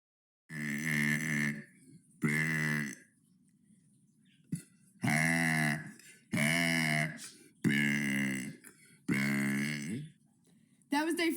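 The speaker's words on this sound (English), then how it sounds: "That was day 49 of burping for 100 days." Seven deep, resonant burps from one person follow each other closely, each lasting about a second, loud and close with brief pauses between.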